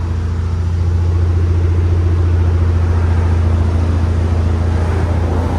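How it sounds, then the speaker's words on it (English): A Kia Stinger 2.0 Turbo idles with a steady, loud low rumble that holds even and unchanging throughout, close up with no voices over it. "Here's idle."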